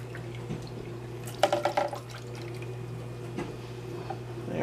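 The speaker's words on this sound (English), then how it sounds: "Start off with a 1/2 of a cup of just plain distilled white vinegar." Plain distilled white vinegar poured into a measuring cup, a short trickling splash of liquid lasting under a second, close and faint over a steady background hum.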